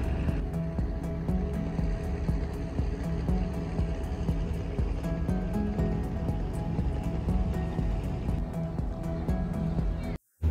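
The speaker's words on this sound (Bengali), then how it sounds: "আমাদের লঞ্চ আস্তে আস্তে পেছনের দিকে দিয়ে ভোলার উদ্দেশ্যে ঢাকা সদরঘাট থেকে রওনা হচ্ছে" A passenger launch slowly reversing away from Sadarghat in Dhaka at night, with a continuous low rumble of engine and churning river water, steady and fairly loud, ending abruptly.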